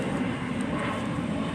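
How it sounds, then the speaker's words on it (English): An airplane passing overhead outdoors, a steady broad distant roar that holds evenly throughout with no talking. "It's funny that a plane would fly over right then."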